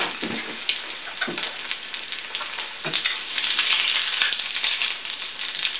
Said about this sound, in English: A little bacon fat to deal with here. Kind of splattered around some.